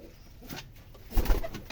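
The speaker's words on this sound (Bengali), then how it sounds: "রুমবাজির কবুতর, এটা একটা মাদি।" A female Rajshahi pigeon coos softly and close by, a short low murmur swelling near the end, with faint background noise and no talk.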